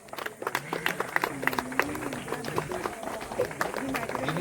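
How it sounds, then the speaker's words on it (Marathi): A crowd at a family gathering in the Konkan claps for a daughter receiving a gift, producing a dense, continuous patter of clapping under loud talk from a man on a microphone. "जोरदार टाळ्या करा, वाजवा."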